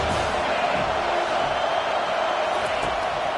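Stadium crowd roaring steadily at a big third down in an NCAA college football video game, a dense continuous wall of cheering noise with no breaks.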